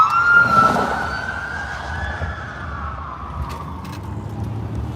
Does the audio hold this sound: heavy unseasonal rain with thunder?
no